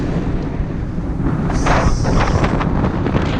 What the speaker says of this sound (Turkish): konuşamıyorum ki rüzgardan